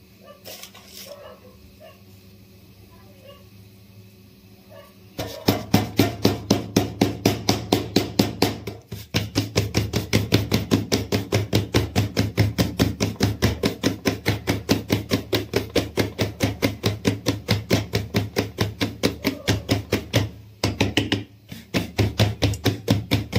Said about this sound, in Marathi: आता मी भाकरी थापणार आहे